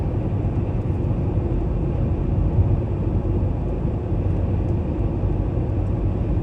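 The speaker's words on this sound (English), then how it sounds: "It's the sunset helicopter ride going Melanie." A sunset tour helicopter passing overhead above Pigeon Forge on a snowy day, heard as a steady low rumbling drone that stays constant throughout with no talking.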